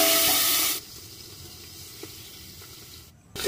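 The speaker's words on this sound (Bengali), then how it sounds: "এবার যে চাপা দিয়ে ভাজতে হবে, না তো ফাটবে" Magur catfish frying in hot oil in a village kitchen, a loud sizzling hiss at the start that cuts to a muffled, quieter bubbling once the lid goes on, then flares again at the very end.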